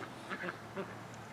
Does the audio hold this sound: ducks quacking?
yes